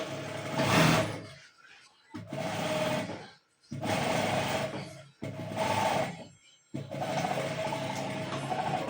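Sewing machine stitching an African print tote bag runs in four or five rapid whirring bursts separated by short pauses, close and loud, with no talking.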